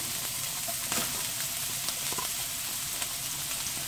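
Vegetables frying in shallow oil for Singaporean rice, giving a steady, close hiss and crackle with a few brief clicks of stirring, and no voices.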